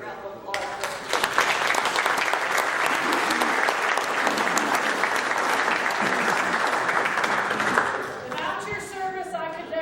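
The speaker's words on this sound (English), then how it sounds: "I think we owe her a great round of applause." An audience applauds a woman at a gathering honoring a WWII veteran paymaster, steady dense clapping swelling in after a moment and holding loud for several seconds before thinning, with voices mixed in underneath.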